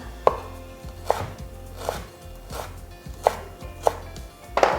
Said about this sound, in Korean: 결을 보고 썰어 주시면 좋을 것 같습니다